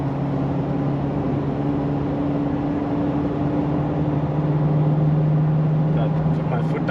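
A Foton Tunland G7 pickup accelerates on the road, a steady loud engine drone with a rising tonal hum inside the cab, continuous throughout, with someone talking over it.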